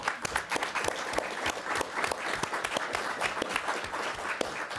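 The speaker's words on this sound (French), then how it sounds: "J'aimerais que nous, avant de poursuivre, les applaudissions tous très chaleureusement" A seated audience at an academic talk on political integration and national borders claps warmly, a dense steady patter of many hands at moderate volume with no voices over it.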